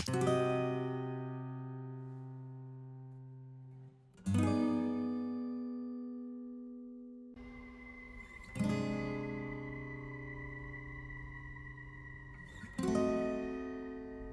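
Acoustic guitar chords ring out in a break from a song, four strummed chords each struck cleanly and left to decay, clear and alone.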